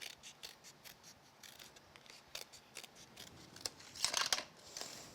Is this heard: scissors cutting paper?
yes